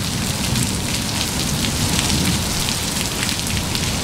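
Heavy rain pours steadily during a thunderstorm at a home by the grill, a dense, loud, unbroken hiss of drops drumming on surfaces, close and constant with no voices.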